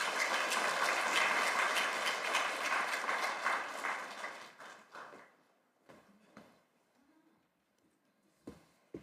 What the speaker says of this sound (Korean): 우리 환영의 박수를 칠까요?